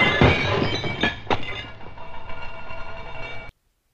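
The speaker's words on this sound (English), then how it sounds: "Glass breaking." A glass-breaking sound effect: a few sharp crashes close together, then ringing, tinkling shards that fade over a few seconds before it stops abruptly.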